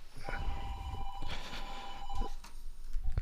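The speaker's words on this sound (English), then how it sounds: "my phone is ringing" A telephone bell rings in a repeated electronic trill, a couple of sustained bursts with short gaps, heard clearly at moderate volume amid a busy courtroom scene from the Phoenix Wright: Ace Attorney game.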